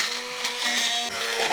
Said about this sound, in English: I will be blending everything together with the hand blender